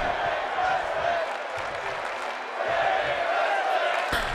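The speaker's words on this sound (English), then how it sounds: "And the crowd chanting at women's wrestling" A wrestling crowd, with a women's match underway, roars in a steady, loud wash of voices that fills the whole space, with a rising swell and scattered claps suggesting a chant.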